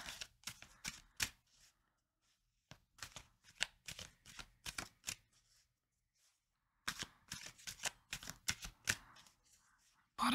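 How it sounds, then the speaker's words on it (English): Tarot cards are shuffled in two close, crisp bursts of rapid riffling clicks and snaps, separated by a quiet pause, with no voice over them. "I feel like I need to shuffle again before I get the bottom row of the backs."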